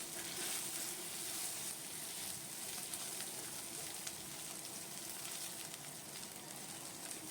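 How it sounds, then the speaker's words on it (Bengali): Crushed garlic and five or six green chillies fry in hot oil for jute leaf greens, a steady close sizzle with fine crackling spits running throughout, no voices. "রসুন আর পাঁচ ছটা কাঁচা লঙ্কা আমি হামন দিস্তাতে ছেঁচে নিয়েছিলাম সেটা দিয়ে দিলাম তেলের ওপর এবার একটু ভেজে নেব"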